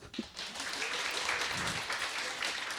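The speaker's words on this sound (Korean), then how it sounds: "박세한 렘넌트를 위해서 박수." A church congregation at a Sunday school graduation and sending-off service breaks into applause, a broad wash of clapping that swells and holds steady for a few seconds at moderate distance.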